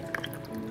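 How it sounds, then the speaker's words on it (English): Apple cucumber juice poured through a small strainer, a short, soft liquid dripping and trickling with a couple of brief splashy drips standing out, close and fairly quiet. "I'm gonna be straining it several times just to make sure"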